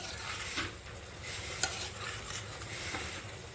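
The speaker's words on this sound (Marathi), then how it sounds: "आता बटाटा टाकते टाकला तो परतून घेते" Potatoes sautéed in a pan with mustard seeds, cumin, chilli and curry leaves for a Marathi potato bhaji, making a soft continuous sizzle with gentle swishes of stirring and a brief clink near the middle.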